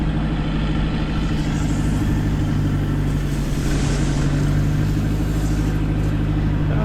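Farm tractor engine running steadily to power a new crop sprayer, a loud continuous diesel drone with a strong low hum held at constant revs, no talk over it.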